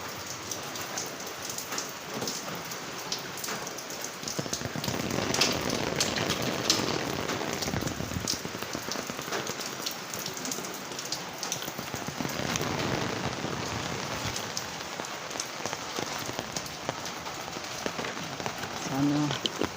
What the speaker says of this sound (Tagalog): Ayan, naririnig niyo umuulan.